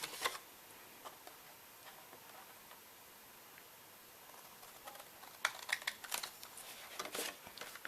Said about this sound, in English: let's take our scissors and we'll cut those out